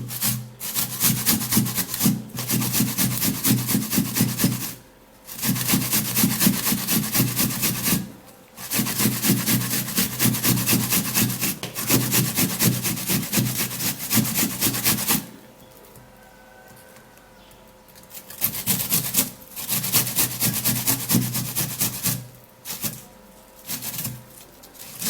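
An onion is grated in loud, close, rhythmic rasping strokes, in long steady runs broken by brief pauses and one quieter stretch.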